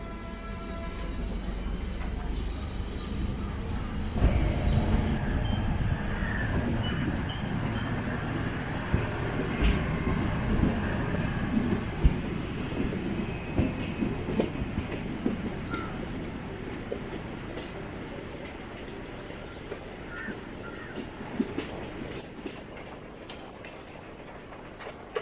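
A passenger train pulling out of Cuddalore Port Junction, a steady rumble of wheels rolling on the rails with scattered clanks and squeals, growing quieter and thinner toward the end.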